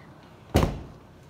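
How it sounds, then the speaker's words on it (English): A door that doesn't close properly makes a single short, heavy thunk, close by and loud, with quiet room tone before and after. "I think the door doesn't close."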